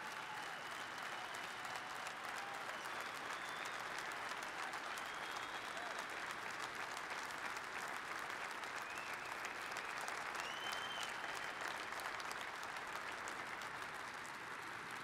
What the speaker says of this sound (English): And I can hear that cheer coming from all over the heartland of America.